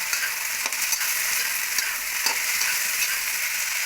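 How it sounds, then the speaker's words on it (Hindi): Potatoes and peas fry with onion and chili in a hot pan, giving a loud, constant sizzle broken by a few soft scrapes as a spoon stirs them close by. "मैं डाल रही हूँ आलू और मटर।"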